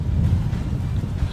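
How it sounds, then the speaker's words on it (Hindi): Rough sea waves at Dwarka on the Gujarat coast ahead of Cyclone Biparjoy's landfall: a brief, continuous low roar of surf mixed with gusting wind buffeting the microphone. "जिस तरह से हम ये आपको लहरें दिखा रहा हूँ ये द्वारका की है"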